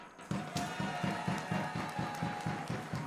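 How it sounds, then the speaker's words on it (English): A crowd in an air pistol final hall claps in a steady rhythmic beat, loud and continuous, with cheering voices mixed into the applause. "I have heard the crowd being louder in here"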